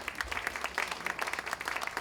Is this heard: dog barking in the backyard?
no